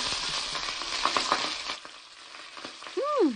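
A hamburger steak patty made with onion sizzles steadily as it fries in a flat pan. A brief squeaky scrape comes near the end.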